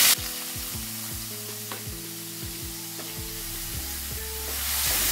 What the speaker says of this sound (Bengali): আমি এই তেলের মধ্যে ফ্রাই করব একটু।